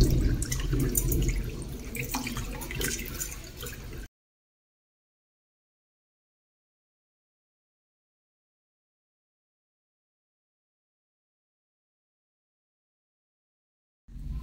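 Tap water runs into a bathroom washbasin, rinsing it after scrubbing, a steady close splashing for about four seconds before silence, then briefly returning at the end.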